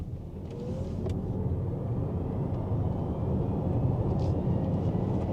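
An Omoda 9 SHS plug-in hybrid SUV accelerates in HEV mode, heard from inside the cabin as a steady, low engine and road drone that swells gently, with no talk over it.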